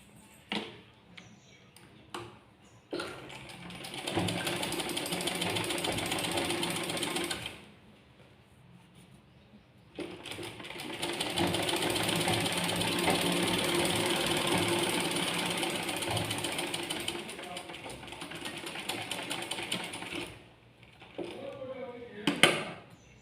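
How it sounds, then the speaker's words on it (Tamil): A sewing machine runs rough straight stitches through cloth while tucks are sewn, in two long steady bursts of fast mechanical whirring separated by a short pause, loud and close, with light handling clicks between. "இப்போ நான் ஸ்டிச் பண்ணி காட்டுறேன்"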